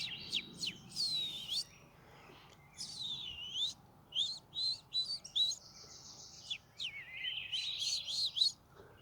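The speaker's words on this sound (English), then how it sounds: "But I think it's a chirper of some sort." A small bird chirps near a creek bank at a mining spot, a string of high, quick tweets and warbles, fairly close and clear, in several bursts over a quiet background.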